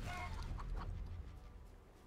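A chicken from a polymorph spell in the Divinity Original Sin 2 video game clucks a few times in short bursts early on, fairly faint, over a low rumbling game background.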